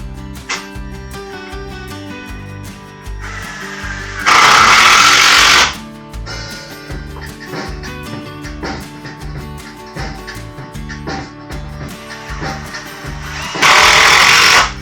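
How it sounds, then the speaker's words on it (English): Power drill driving screws into the legs of a homemade kayak storage cart: a continuous rattling mechanical whir at close range, with two louder, harsher bursts of the drill biting in as screws seat. "just drilling the last few legs together"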